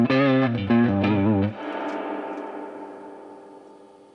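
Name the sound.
valve guitar amp with reverb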